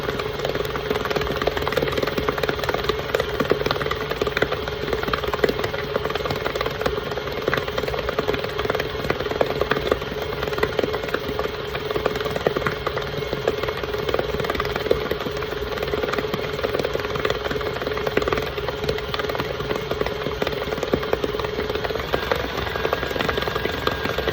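An electric mixer whirs steadily and loudly at a raised speed while beating vanilla or chocolate buttercream for cupcakes, a constant buzzing drone with no pauses throughout.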